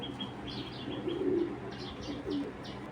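Domestic club pigeons, saddle-marked birds among them, give soft low coos up close, with a couple of louder cooing swells, light chirps and a flutter of wings.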